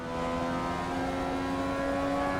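Race car engine holding a steady, loud drone with strong tonal harmonics, continuous and close for the whole stretch, with no clear break of a gear change.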